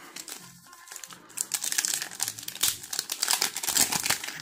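A Pokemon Chilling Reign booster pack wrapper is torn open up close with loud crinkling and ripping foil, a quiet start building into dense, continuous crackling rustles.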